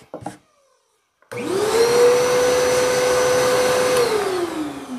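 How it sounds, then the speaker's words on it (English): A downdraft sanding table built from scrap wood starts up after a brief moment of quiet and gives off a loud, steady vacuum roar as it draws in dust, then winds down near the end. "And it sucks all that dust right up."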